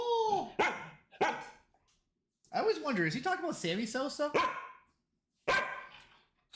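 A dog named Ozzy barks and yips in short loud bursts close to the listener, mixed in among a person's talking.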